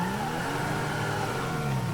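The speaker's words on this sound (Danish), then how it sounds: "Men hvorfor går der en bil her?" A car passing by at night on a road, a steady mid-pitched engine hum and tire drone that swells slightly, heard up close and alone.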